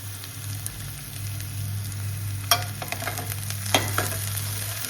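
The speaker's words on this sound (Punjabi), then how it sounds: "ਹੁਣ ਆਪਾਂ ਤੜਕਾ ਕਰ ਲੈਣੀ ਆ" Spices sizzle steadily in hot oil for a tadka for a potato and capsicum dish, with a few sharp scraping stirs of the pan, close up and with no talk.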